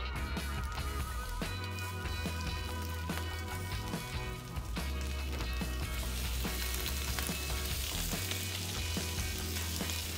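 Shelled, deveined prawns sizzle steadily on a hot barbecue, a continuous close crackle and hiss that holds at an even level throughout.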